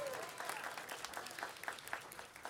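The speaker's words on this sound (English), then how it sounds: "Let's give her a round of applause too." Applause from an outdoor crowd at a grand opening on the steps of San Francisco City Hall, a faint, steady patter of clapping over about two and a half seconds, with some voices mixed in.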